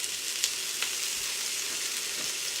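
Chopped onions frying in a hot skillet give a steady, loud, close sizzle throughout, with a couple of faint clicks from stirring and no voices.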